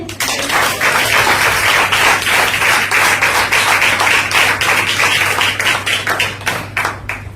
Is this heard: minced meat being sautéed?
no